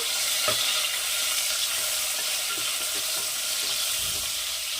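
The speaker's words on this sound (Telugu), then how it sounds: "కరివేపాకు వేయాలి. కలపాలండి ఇది." Curry leaves and onion crackle in hot oil in a pan while being stirred, a dense continuous sizzle with small pops throughout, close and steady.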